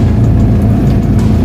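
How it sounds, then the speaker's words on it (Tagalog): Street traffic in Taguig City: a dense, loud, continuous rumble of car and bus engines close by, with faint passing whooshes and no talk. "Traffic."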